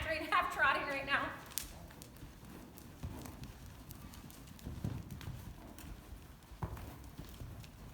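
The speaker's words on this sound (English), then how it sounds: "She's kind of halfway cantering, half trotting right now." A horse's hooves clip-clop in a steady rhythm on firm ground, half trotting and half cantering, with a person talking over them throughout.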